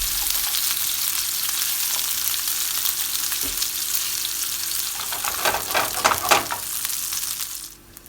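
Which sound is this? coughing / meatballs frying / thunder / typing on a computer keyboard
meatballs frying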